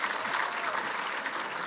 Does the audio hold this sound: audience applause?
yes